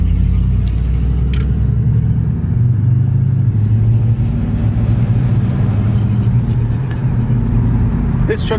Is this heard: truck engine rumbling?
yes